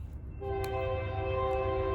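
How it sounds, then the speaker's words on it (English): Train horn sounding nearby as a train passes a crossing, a sustained loud multi-tone blast held steady over the low rumble of the rail cars. "Nope, there's a train."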